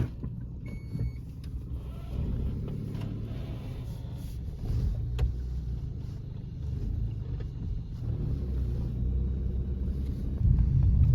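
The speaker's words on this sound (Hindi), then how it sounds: "गाड़ी स्टार्ट कर ली है और गाड़ी में बैठते हैं" A car out on a forest road at night near Jim Corbett rumbles steadily from inside the cabin, a low continuous engine and road drone that swells slightly toward the end, with no talking.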